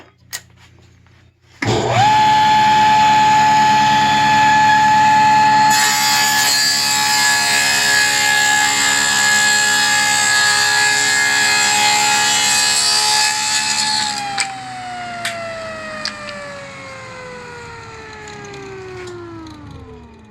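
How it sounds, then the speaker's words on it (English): A stacked dado cutter on a table saw spins up loudly and cuts the corner off a wood block, a steady high machine whine held for about twelve seconds before the blade winds down and coasts to a stop. "We're going to run it through a stacked dado, and we're going to cut the corner off that's 53"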